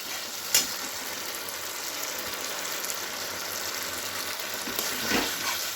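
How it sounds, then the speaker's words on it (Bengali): A mustard, green chili and poppy seed paste stir-fries with eggplant in a pan, a continuous sizzling hiss punctuated by a sharp utensil clack near the start and scraping stirs toward the end. "আবারও খুব ভালো করে নাড়াচাড়া করে নেব"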